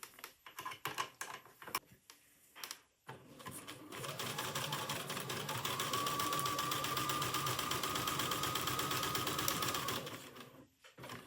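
A sewing machine runs a tight, wide zigzag stitch through a sweatshirt, starting with a few short bursts and then humming in one long, steady, loud run with a rapid mechanical chatter, close by, with no talking.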